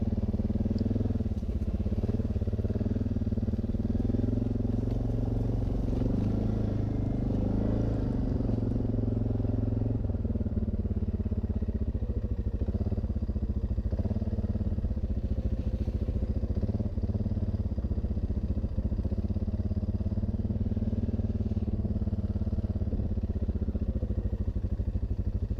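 An ATV engine drones steadily and loudly throughout the ride along a drying trail, with a continuous low rumble that rises and falls slightly as the machine moves, with clatter from the rough ground and no talk.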